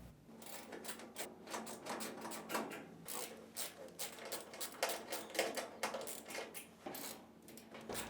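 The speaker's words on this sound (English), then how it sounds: "Using a 1/4-inch nut driver, remove these 3 screws on the back of the washer." Screws are backed out of the rear panel of a Whirlpool, Maytag or Amana washer with a 1/4-inch nut driver, giving a close, busy run of rapid clicking, ratcheting and metallic rattles that carries on steadily without talk.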